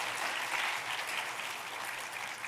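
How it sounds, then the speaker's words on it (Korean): A church congregation claps during a Sunday worship service, a soft, steady patter of many hands heard at a modest distance for a couple of seconds. "말 나온 김에 박수 한번 쳐주세요"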